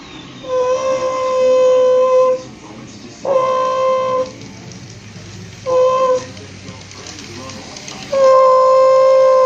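A Union Pacific locomotive pulling Amtrak passenger cars passes on the near track, sounding its horn in several loud blasts, with steady rail rumble underneath.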